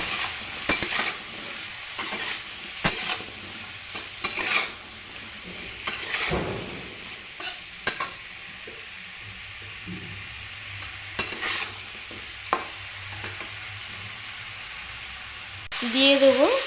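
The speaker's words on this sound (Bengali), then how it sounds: "এখন ভালো করে নাড়াচাড়া করে নেব" Spatula scrapes and stirs through a curry in a pan after salt and turmeric are added, before any tomato goes in. Irregular scraping knocks over a soft background sizzle, with a voice briefly near the end.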